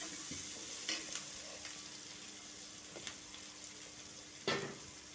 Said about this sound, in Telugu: వేచుతాను ఒక్కొక్కటి వేసి.